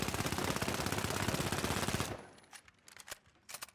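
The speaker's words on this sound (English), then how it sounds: "But listen to the fire rate of this thing." Automatic weapon fire in the video game The Finals, a rapid, continuous stream of loud shots lasting about two seconds, then a few scattered bursts and impacts trailing off.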